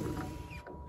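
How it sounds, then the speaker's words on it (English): A door swings shut with a short creaking, squeaking hinge sound, fairly close, ending in a quieter tail with no voices. "Gotta close the door."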